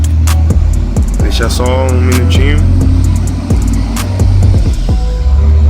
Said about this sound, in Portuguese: Desculpa o barulho do caminhão, que ele tá passando aqui na frente